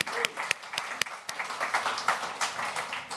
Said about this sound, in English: So can we get a round of applause for that?